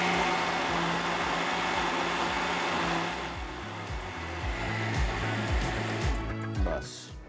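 A blender whirs loudly and steadily while it blends a mixed fruit cocktail shake. The motor tone shifts and pulses partway through, then winds down near the end.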